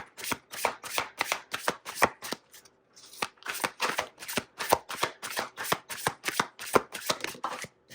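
A deck of tarot cards being shuffled in rapid repeated riffles, crisp fluttering bursts close to the microphone with one short pause partway through, no voices.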